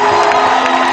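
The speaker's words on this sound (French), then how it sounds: "Tu peux pousser des cris de joie. Tu peux pousser des cris de triomphe." A church congregation cries out in joy and triumph during a worship service, a dense, loud wash of crowd voices and cheering that holds steady for a moment.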